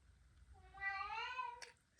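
A single short cat meow rises and falls over about a second, fairly close and clear against a quiet room, followed by a brief soft click.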